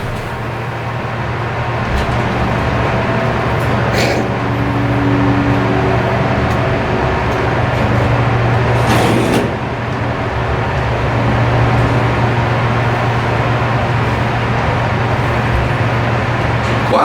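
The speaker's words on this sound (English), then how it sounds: "Wow, Jason, thanks for showing us this epic motor" The motor of a hydraulic scenic elevator at the Grand/State CTA station in Chicago hums steadily in a loud enclosed space, with a couple of brief whooshing bursts and a faint rumble of background noise.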